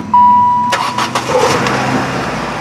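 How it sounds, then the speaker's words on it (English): A Saturn S-Series car's engine starts after a brief warning chime, with a short burst of starter cranking that catches into a steady idle, loud and close. "turn the car on, let it run"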